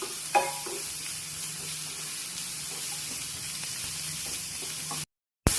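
Chicken cutlet mixture sautéing in a pan with a pinch of salt, a continuous soft sizzle with a few scraping stirs near the start, ending in a short break of silence.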